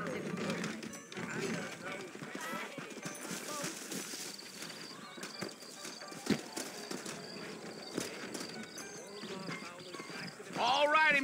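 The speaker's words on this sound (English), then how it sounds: "I got the horses saddled up and ready out front." Horse hooves clip-clop steadily over ground in the video game Red Dead Redemption, with a horse whinnying and voices talking over the top.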